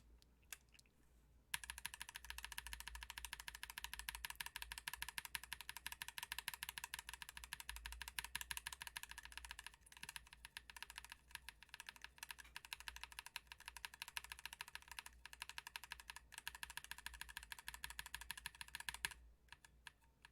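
Rapid, continuous typing on a mechanical keyboard with linear cream switches, dense clacking keystrokes in an even rhythm, close and fairly quiet, with a brief pause before resuming.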